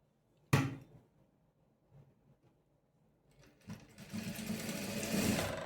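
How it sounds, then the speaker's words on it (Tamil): A sewing machine stitches a three-dart blouse. A sharp knock comes first, then near silence, then the motor whirs up into a steady, close run of stitching that continues to the end, with no talk. "டபுள் ஸ்டிச் போட்டுக்கிறேன்"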